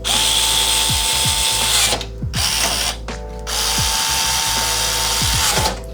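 Case screws are driven into a white gaming PC case with a powered screwdriver, giving a loud, close motor whine that ramps up and down several times, broken by two short pauses, with no talking.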